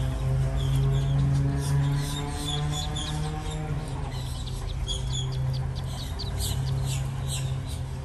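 Bird calls and chirps over a steady low traffic drone on a street in Plantation, Florida, where a duck family with about twenty ducklings crosses; the calls run throughout, moderately loud against continuous background noise.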